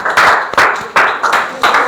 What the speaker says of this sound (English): Give her a big round of applause once again.